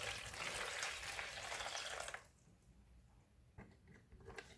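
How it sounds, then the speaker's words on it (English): Water pours into a tub holding OxiClean powder in a steady splashing gush for about two seconds, then stops, leaving a few faint drips and small sloshes. "take your water and you pour it in."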